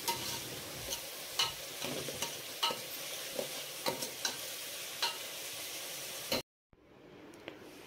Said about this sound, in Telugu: ఒక 2 times బాగా కలుపుకొని మూత పెట్టేసుకోవాలి